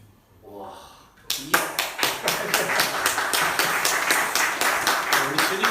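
A church congregation at a Sunday service claps in a steady, even rhythm of loud group claps that starts just after some brief talking.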